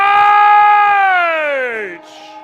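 The three-quarter-time siren sounds at a 2019 Hunter Central Coast AFL Plate grand final between Terrigal Avoca and The Entrance. It is a loud, sustained wail that slides downward in pitch and fades out, with faint commentary beneath it.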